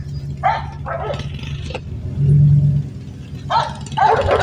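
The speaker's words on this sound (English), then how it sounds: "the stupid dogs." Dogs barking outdoors at a campsite, several loud bursts in two clusters separated by a pause, over a steady low rumble from a nearby engine or car.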